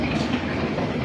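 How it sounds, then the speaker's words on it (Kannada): A metro train running on the rails at Mango Mist resort in Bangalore, a steady close rumble of wheels and carriage with no break, filling the whole moment. "So train ಹೊರಡ್ತು. ಈಗ ನೋಡಿ ರನ್ ಆಗ್ತಾ ಇದೆ"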